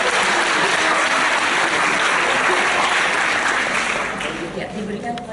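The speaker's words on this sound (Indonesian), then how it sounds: "Boleh aplaus untuk Mas Rizky?" Loud, sustained applause from a seminar audience for Mas Rizky, dense clapping filling the room at an even level before easing off slightly at the end.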